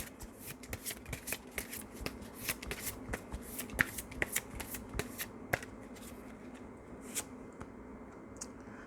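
A deck of tarot flower cards is shuffled and drawn by hand, giving a steady run of soft, close riffling flicks and taps that thin out toward the end.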